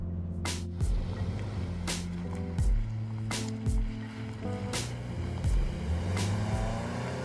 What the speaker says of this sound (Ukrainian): Так, це Subaru і тут опозитний двигун.